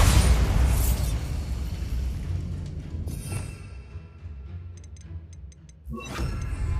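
A Bombarda blasting spell blows apart a barricade in the Hogwarts Legacy catacombs, with a loud booming burst at the start that rumbles and decays into debris and faint magical tinkling, followed by a second swell near the end.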